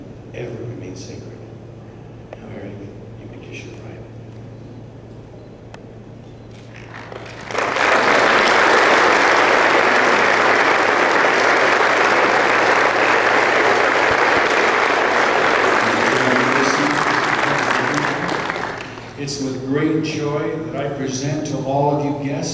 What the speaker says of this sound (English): Give them your applause.